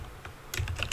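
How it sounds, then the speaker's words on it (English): Light, quick keystrokes on a computer keyboard, a few soft clicks followed by a faster burst of typing, close and quiet with no talking. "I'll just type"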